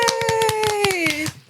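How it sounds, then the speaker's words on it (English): A small group clapping in a round of applause, sharp distinct claps in quick rhythm under a sustained voiced tone, fading out near the end. "Let's give her a round of applause."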